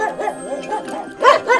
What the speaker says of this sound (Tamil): அப்ப அங்க ஒரு நாய் குலைக்கிற சத்தம்.